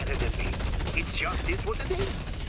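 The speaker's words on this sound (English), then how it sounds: "So I shoot some minions because I can kill them" Rapid automatic gunfire from the Deadlock video game shooting at minions, a fast steady rattle of shots under game effects and faint chiming tones, close and continuous.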